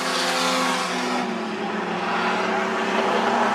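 Outlaw sedan race cars roar around Macs Speedway during an Australian title night, a loud continuous engine drone with steady revving as the leading cars close on slower traffic.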